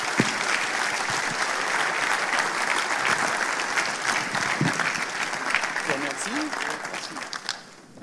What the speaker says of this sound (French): maintenant, on peut applaudir Monsieur Babinet et Kwame Yaman